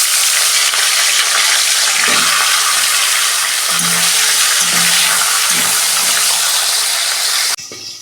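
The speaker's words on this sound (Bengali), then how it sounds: "তেল গরম হয়ে গেছে, মাছটা ভেজে নিচ্ছি।" Fish frying in hot oil, a loud, dense, steady sizzle close up with a few soft thumps underneath, cutting down abruptly just before the end.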